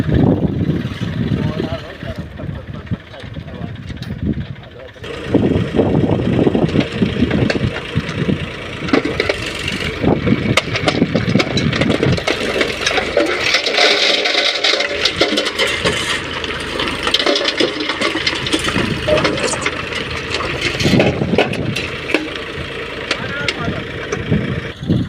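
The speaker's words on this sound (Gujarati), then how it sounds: "તો ટ્રેક્ટરને આપણે ઉલારીને નાખી દઈએ અટાણે" A tractor engine runs at a steady, close rumble while its trolley is tipped out to dump its load, with someone talking over the engine throughout.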